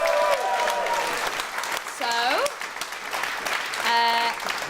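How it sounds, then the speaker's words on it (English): An audience at a live stand-up comedy show at the Pleasance applauds in a broad wash of clapping, with a host talking over it and a few tonal sound effects breaking through. "Give yourselves a round of applause."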